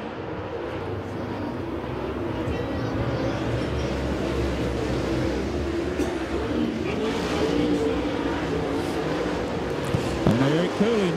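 Super late model race cars roar around Magnolia Motor Speedway, a dense continuous engine drone with cars sweeping past and a rising-falling whine near the end, heard at a distance.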